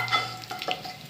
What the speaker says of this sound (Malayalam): അത് ഇളക്കി യോജിപ്പിക്കാം.